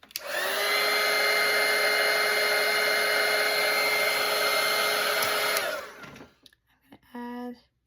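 A hair dryer drying watercolor paint on a painted Christmas ornament roars steadily and loudly for about six seconds with a constant whine, then clicks off, leaving brief quiet clatter and a short tonal sound.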